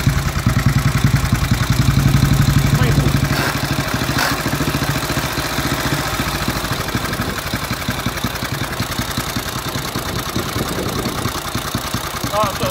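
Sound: 1927 Sunbeam Model 6 500cc motorcycle engine idling

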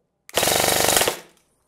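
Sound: Specna Arms E06 airsoft rifle firing on full auto

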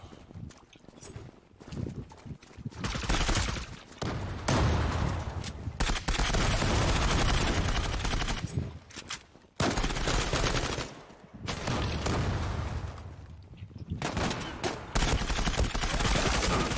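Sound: gunfire in the video game Zula

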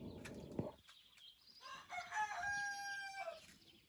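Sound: rooster crowing

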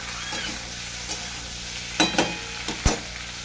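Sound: frying broad beans with potatoes in a pan

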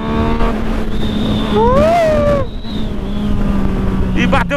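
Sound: Yamaha MT-09 motorcycle accelerating

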